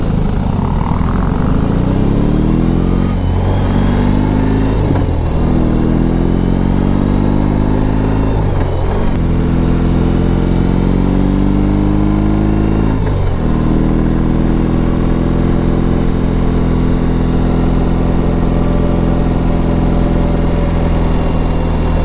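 A BMW R18 Transcontinental motorcycle's big engine rumbles steadily in its sportiest rock mode, a loud, continuous low drone with a few brief dips and surges as the rider shifts or rolls off the throttle.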